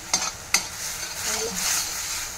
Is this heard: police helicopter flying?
no